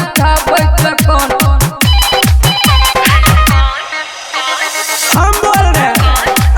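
A phone ringtone plays loudly in a Bhojpuri-style song, a looping electronic melody driven by a heavy thumping beat. The ringing briefly drops out, then starts again.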